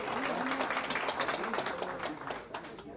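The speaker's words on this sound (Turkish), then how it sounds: "Alkışlıyoruz rica ediyorum" A hall audience applauds local election candidates at a federation's candidate-introduction event: a dense, moderately distant patter of clapping that holds steady, then thins and fades toward the end.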